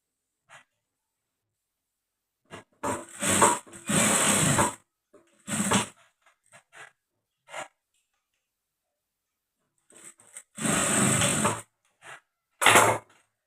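Sewing machine stitching a blouse: several short runs of close, whirring stitching, two of them longer, separated by quiet pauses and a few faint clicks.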